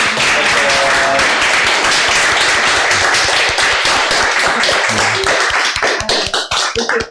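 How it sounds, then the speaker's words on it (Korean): Dense, steady clapping from a lecture audience fills the hall at the close of a forum talk on gender feminism, loud and continuous before thinning into a few scattered claps at the end. "큰 박수 부탁드리겠습니다."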